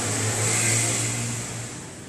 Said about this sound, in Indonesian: Jika baut ini kita sentuh, motor akan nyala.